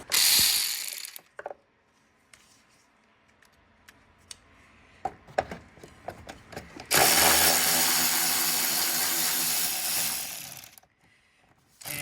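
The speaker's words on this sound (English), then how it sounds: "there's a 10mm bolt that holds this in place" A ratchet clicks on a 10mm bolt at the valve cover of a 2013–2018 Nissan Altima 2.5L. There is a loud burst of ratcheting, then sparse metallic taps and clicks, then a long sustained run of fast clicking, all close.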